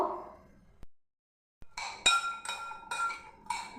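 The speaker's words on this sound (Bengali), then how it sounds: "ভালো করে চামচে করে আগে মেখে নেব" A spoon clinks against a bowl while puffed rice is mixed with mustard oil, peanuts and chanachur, giving a run of bright, close metallic taps after a short quiet gap.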